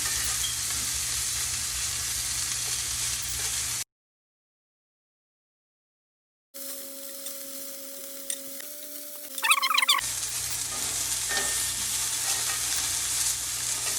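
Chicken wings sizzle in a hot cast iron pan, with steady frying hiss that cuts to silence midway, then returns with a low hum and a few sharp clinks before the sizzle resumes.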